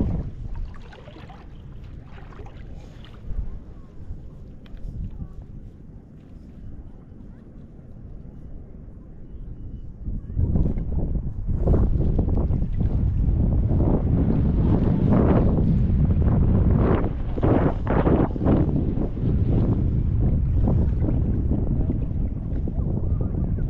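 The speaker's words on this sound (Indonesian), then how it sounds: "Angin kencang." Strong sea wind buffets a small boat during a traditional fishing competition off Batam, gusting harder and louder in the second half with rushing roar and rumble against the microphone.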